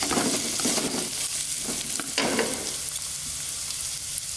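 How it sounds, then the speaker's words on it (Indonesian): Carrots are stirred into red snapper soup frying in a pan, a close, dense sizzle broken by rhythmic scraping stirs that ease off into a quieter steady fry. "sekarang kita masukkan wortelnya. Kita aduk-aduk sebentar"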